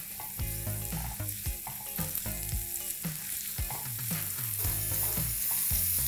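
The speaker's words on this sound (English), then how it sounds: "The onions have begun to sweat." Red onions sweat gently in heated olive oil for stuffed bell peppers, a steady close sizzle running throughout under rhythmic stirring knocks, with no one speaking.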